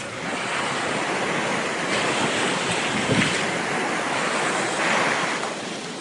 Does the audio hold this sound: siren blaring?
no